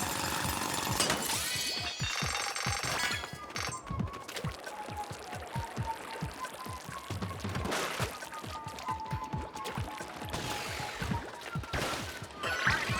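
Crystal being drilled in Splatoon Raiders: a steady, grinding, crunching game effect that carries for the whole stretch, with clattering breaks and shattering bursts layered over it and no voice on top.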